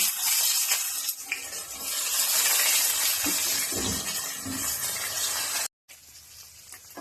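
Sliced onions sautéing in a pan for a home-style crab curry, a steady close broadband sizzle and hiss with faint stirring scrapes, continuing without talk and briefly cutting out near the end.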